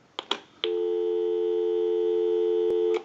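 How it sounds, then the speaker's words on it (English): A converted Popeye telephone gives a steady, unbroken dial tone after a couple of short clicks, held loud and close for over two seconds before cutting off. "give you some dial tone"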